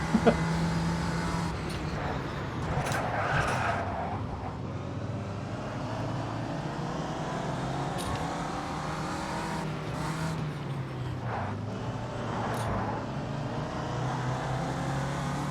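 Ginetta G40 race car engines at the Adelaide street circuit in Automobilista 2, a steady loud drone of revving and shifting engines with cars passing close by throughout, plus a brief tyre squeal.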